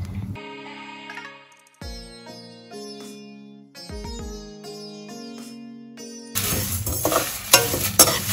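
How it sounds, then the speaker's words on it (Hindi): Cumin and spices dry-roasting in a pan for homemade sambhar masala; a tonal musical passage plays first, then a rough, dense crackle and scrape of stirred spices takes over for the last couple of seconds. "इसमें अब जीरा भी डाल के भून लूंगी।"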